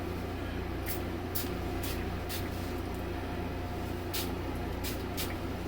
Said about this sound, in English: The body spray for that.